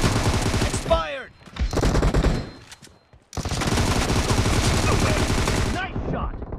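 Gunfire in the mobile battle royale game PUBG Mobile during a team deathmatch, with loud rapid automatic bursts, a brief pause, then a long sustained volley, and faint game voice sounds mixed in.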